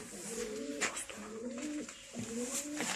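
A smoke-grey pigeon coos softly and repeatedly in a steady rhythmic series, close by and fairly quiet against light background noise.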